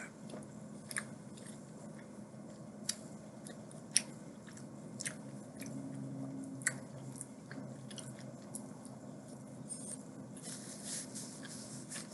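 Close, quiet eating of coconut, with soft wet chewing and scattered crisp bites and crunches over a steady low background, without talk.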